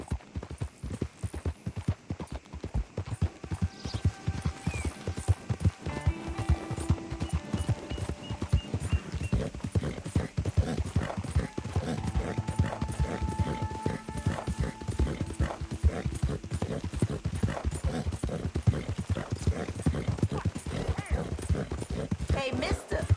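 Rhythmic horse hoofbeats in Red Dead Redemption 2 clop steadily throughout, with occasional whinnies and snorts layered in, close and continuous with a steady galloping pace.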